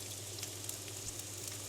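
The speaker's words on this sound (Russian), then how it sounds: "И обжариваем первым делом лук." Onion frying in a pan, a steady soft sizzle with crackling bursts throughout, fairly quiet and continuous with no talking.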